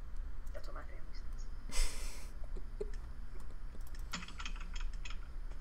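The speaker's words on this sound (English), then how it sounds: "Sorry for my, like, ultra-loud keyboard." A loud computer keyboard rattles with quick clusters of clicking keystrokes during a Minecraft Murder Mystery gaming session, over a steady low background hum.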